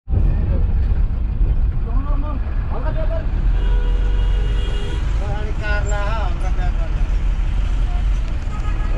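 Bus ride through heavy traffic on a road toward India, with steady engine rumble and road noise throughout, passing vehicles and horn-like tones rising over the drone, and people talking over it.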